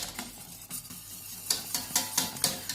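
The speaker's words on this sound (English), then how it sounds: "if your custard does go lumpy, just keep whisking it" A whisk scraping and clattering rhythmically against a pot of thickening custard, quick regular strokes growing louder and more pronounced in the second half, close and alone.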